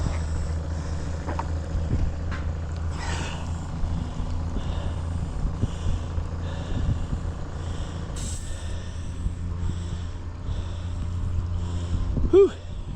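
A low, steady boat engine hum runs throughout, with occasional clanks and a short hiss near the end, while the bow thruster is tested.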